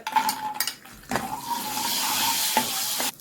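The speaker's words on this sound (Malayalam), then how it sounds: "പായസത്തിലേക്ക് കാഷ്യൂനട്ട്സ് മുന്തിരി വറുത്തിടാം" Cashews and raisins fry in sizzling hot oil in a pan with brief stirring scrapes and clinks, a close, crackling frying sound with no voices.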